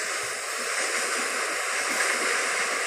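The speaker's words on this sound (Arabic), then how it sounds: "ده صوت مطر." Library sound effect of rain, a dense, steady hiss of broadband noise that stays loud and unchanging throughout with no talk.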